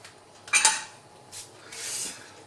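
A spoon clinks and scrapes against a pot while homemade tomato sauce with oregano, basil, thyme and bay leaf is stirred, with a sharp clatter followed by two softer scraping strokes, close and fairly quiet.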